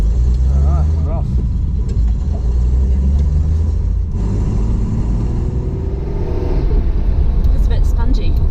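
A home-built Datsun 240Z rumbles along at low revs, heard from inside the cabin as a steady, loud engine drone with a brief dip mid-drive and faint clicks near the end; no one speaks.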